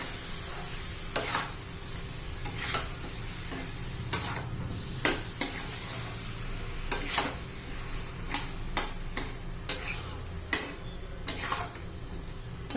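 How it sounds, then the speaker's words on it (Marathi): Potato, pea and eggplant vegetable curry being stirred with masala in a pan, a soft steady sizzle under repeated sharp clicks and taps of a spoon against the pan at an uneven rhythm. "चांगलं ह्या मसाल्याबरोबर परतून घ्यायचे 1-2 मिनिटं."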